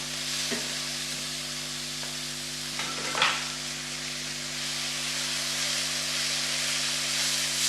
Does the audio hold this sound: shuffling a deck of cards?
no